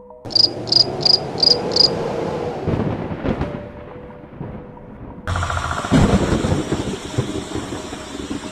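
Heavy rain outside, used as a horror-story effect. Loud, steady broadband hiss fills the second half, preceded by rhythmic insect-like chirps and low rumbling.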